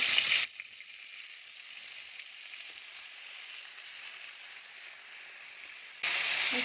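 Eggplants sizzle in leftover fish-frying oil tempered with nigella seeds, a steady hiss that swells loudly at the start and again at the end, with no talk.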